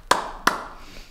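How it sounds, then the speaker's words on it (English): Two sharp, close hand claps about a third of a second apart, then quiet. "Why am I clapping?"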